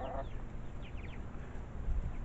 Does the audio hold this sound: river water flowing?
no